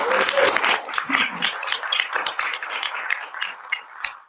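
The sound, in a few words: audience round of applause at annual meeting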